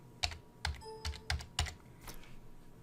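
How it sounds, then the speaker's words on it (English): Keys clack on a computer keyboard in a short burst of about six distinct taps at an uneven pace, close and clear in a quiet room with no talking. "do a Control F again, and then type in"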